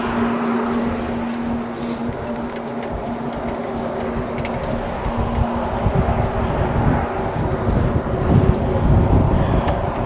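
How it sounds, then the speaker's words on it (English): Gusty wind blows across an open farm field on a cold day, a steady broadband rush buffeting the microphone with low rumbling gusts that build louder toward the end, with no talk over it. "it's windy as well"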